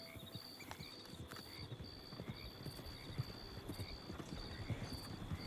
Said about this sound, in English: Sounds like there's some horses.